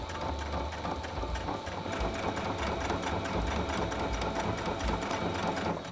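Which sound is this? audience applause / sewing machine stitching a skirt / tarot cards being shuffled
sewing machine stitching a skirt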